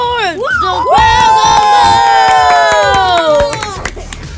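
A basketball crowd cheers and whoops loudly after a score, with high excited shouts rising and holding for several seconds over claps, then fading.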